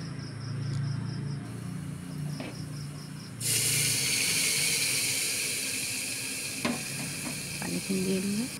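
Water poured onto ginger-garlic paste with cumin, coriander, turmeric, chili and salt in a hot pan sets off a sudden loud hissing sizzle that holds steady, followed by a few spoon clinks.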